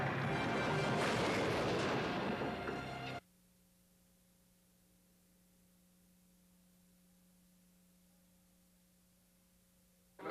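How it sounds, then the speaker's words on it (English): A dense roaring burst of rapid fire from the Cobra assault cannon in the RoboCop video game for about three seconds, then abrupt quiet with only a low steady hum until the end. "Cobra assault cannon, state of the art, bang bang."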